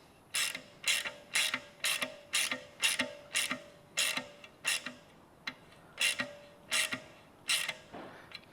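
A hand ratchet drives a heat shield bolt into a Kia/Hyundai V6 engine, with a steady series of about a dozen close, crisp ratcheting strokes and short pauses between them, and no voices.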